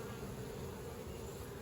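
Honeybees from a small caught swarm buzz in a faint, steady drone, close and continuous with no voices.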